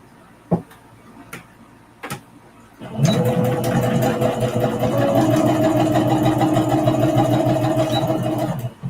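A home sewing machine stitches fabric for a mug rug, starting after a few light clicks and then running in a loud, steady close-up whir with a rapid mechanical rhythm for several seconds.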